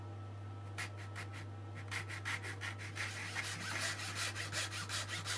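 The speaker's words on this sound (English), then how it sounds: "let's have a go at hacksawing a chunk off of the AFG then" A small hacksaw cuts an angled foregrip for a Gamo MP9 airsoft gun, with a quick run of rhythmic rasping back-and-forth strokes that grows a little busier, quiet and close over a steady low hum.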